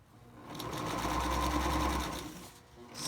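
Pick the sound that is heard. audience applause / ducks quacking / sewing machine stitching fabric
sewing machine stitching fabric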